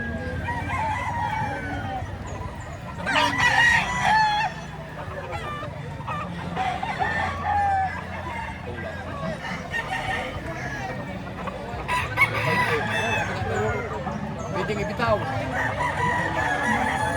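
Many chickens and roosters at a poultry market in Lipa, Batangas, crowing and clucking loudly and repeatedly throughout, with people talking faintly in the background.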